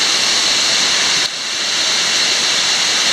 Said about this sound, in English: here we are, up close and personal with the waterfall